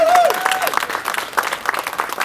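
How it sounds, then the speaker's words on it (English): Audience at a League of Independent Theater candidates rally breaking into a loud round of applause, dense clapping that fades slightly then holds steady, with a brief voice over the start. "can we get one more huge round of applause for incredible endorsed candidates"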